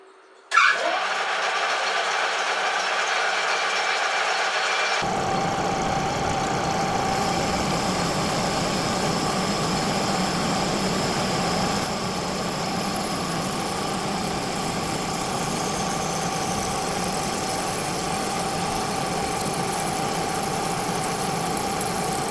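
Machine cutting aluminium tapers, a steady loud motor whine with mid-frequency hum starting after a brief quiet moment, continuous and even without speech.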